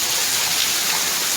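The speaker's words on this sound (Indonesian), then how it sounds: "kolam kena air hujan." Rain falls steadily onto a catfish farming pond, making a dense, even hiss of drops on water with no pauses and no voices.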